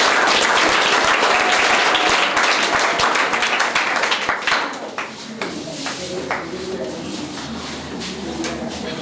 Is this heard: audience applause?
yes